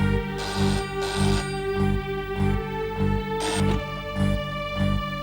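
A phone rings in repeated electronic trills, steady and fairly loud, with a low hum underneath.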